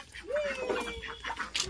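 Chickens and ducks pour out of an opened coop, clucking and squawking in a short, lively burst over open-air background noise.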